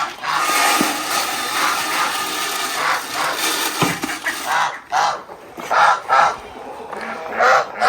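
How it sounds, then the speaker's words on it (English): Domestic geese honk repeatedly on an off-grid homestead, a run of loud, close nasal calls in uneven bursts with brief pauses between them, heard on their own without talk. "What's up, Goose?"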